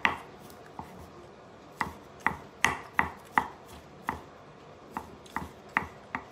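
Knife chopping through sliced cooked beef for a French dip sandwich on a cutting board, about a dozen sharp, close thuds in an uneven rhythm, with quiet pauses between strokes and no talking.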